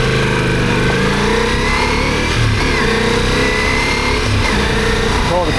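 A Ducati Multistrada motorcycle on a Dartmoor road, its engine droning steadily and loudly throughout with a rough, close-up mechanical roar under constant wind rush.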